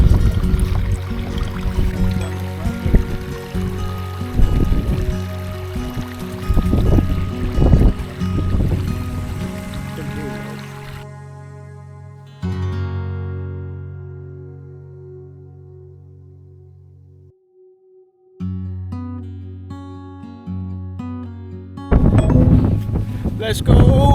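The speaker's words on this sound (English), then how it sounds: "It's so windy up here" Strong wind buffets the microphone on open moorland in loud, gusty rumbles, broken by stretches of near-stillness where a low steady drone remains, before the gusts return.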